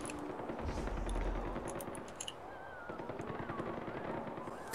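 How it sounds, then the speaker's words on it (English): Rapid gunfire in the video game Far Cry 4, bursts of distant automatic shots crackling in irregular volleys across the whole stretch with a heavier low rumble early on. "I'm hearing a lot of shooting"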